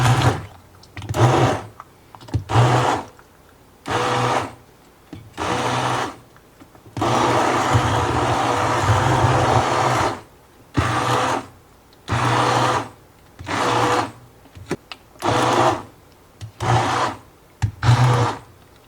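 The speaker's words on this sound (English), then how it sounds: "I'm going to use an immersion blender, and all I'm going to do is just lightly blend it." An immersion blender lightly pulses through cooked strawberry rhubarb jam in a series of short, loud whirring bursts with brief pauses, plus one longer continuous run in the middle, close and with no talking.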